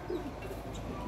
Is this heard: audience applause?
no